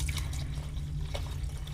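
Water is poured into a pot of cooking vermicelli, a steady splashing stream up close over a low constant hum, with no voices.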